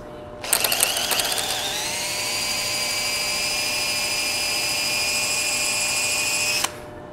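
A power drill runs in reverse, driving a spiral screw extractor into a bolt, whirring steadily at high pitch for several seconds, starting with a few rattling clicks, then cuts off abruptly.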